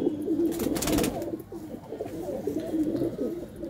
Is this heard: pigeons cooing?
yes